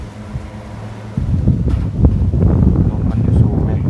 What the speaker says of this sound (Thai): ปิวนะมันลม